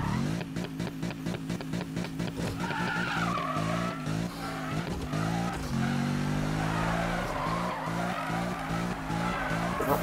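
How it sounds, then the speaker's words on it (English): In Need for Speed 2015, a Mercedes supercar's engine revs hard while its tires squeal and skid through a burnout, a continuous loud, harmonically rich roar with rising and falling pitch and no speech. "That's the noise of the Mercedes Galaxy going to find a race."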